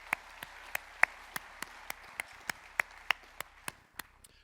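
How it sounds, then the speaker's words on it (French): About fourteen evenly spaced hand claps in a steady rhythm come from the audience at the opening address of a scientific conference, moderately distant and alone, with no talk over them. "Et un petit dernier coup d'applaudissement."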